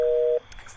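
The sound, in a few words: telephone call tone, unanswered call, in a video game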